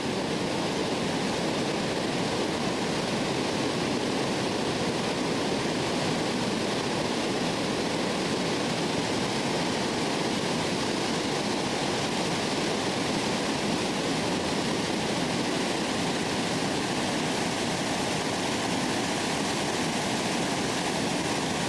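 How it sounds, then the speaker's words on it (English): The Gurgl River near Obergurgl rushes loud and close, running high and forceful after hours of rain in a continuous dense roar of churning water with no voices. "we've stopped to have a look at the river, the Gurgl River."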